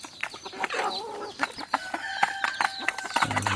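Free-range country chickens cluck and squawk nearby in short, irregular bursts, with a few sharper calls over a quiet farmyard background.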